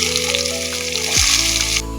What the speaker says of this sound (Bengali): পেঁয়াজ রসুন ফোড়ন দিলাম